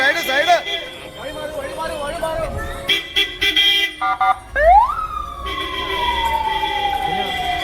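A Seva Bharati ambulance siren wails past a crowded temple approach where people head to watch the aarti, loud and close with rising and falling tones, horns tooting and voices talking around it.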